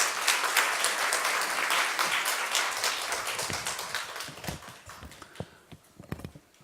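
A Korean church congregation claps to welcome the pastor to the pulpit at a Sunday worship service. The applause starts thick and steady, then thins over the last seconds into a few scattered, separate claps.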